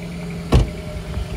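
A Mercedes-Benz CLA 35 AMG 4MATIC Shooting Brake starts with a short, low thump, then settles into a quiet, steady idle hum with no voices.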